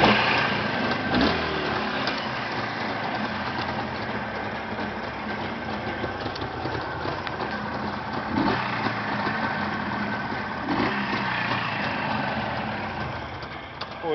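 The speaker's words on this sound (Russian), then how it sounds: "Вот так вот новый мотор работает." A Jawa motorcycle's new engine idles steadily nearby, a continuous even rumble with slight flutters that holds for the whole stretch without revving.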